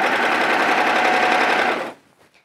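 A domestic sewing machine runs a continuous fast stitching burst along a side seam of a child's coverall, close and steady, then stops abruptly near the end.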